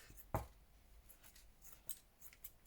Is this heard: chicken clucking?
no